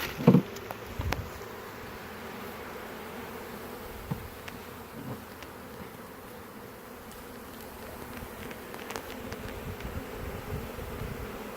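Honey bees buzz around an open, requeened hive, a steady close drone of many wings with individual bees passing near and fading, a few louder passes and knocks early on, no talking.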